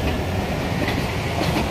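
A Berlin U6 subway train rolls down a ramp into the tunnel toward Borsigwerke, giving a steady, continuous rumble and rail clatter from the wheels, with no talking.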